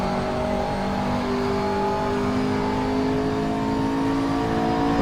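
A race car engine in the Assetto Corsa video game holds full throttle, a steady loud droning roar with sustained tones and no talk over it.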